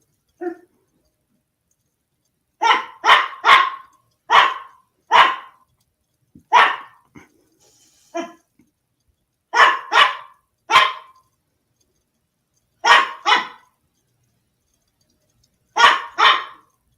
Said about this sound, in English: Shush, doggy.